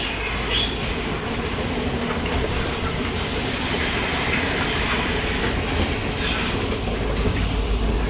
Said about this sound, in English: It just sounds like a train in here with the pulsators.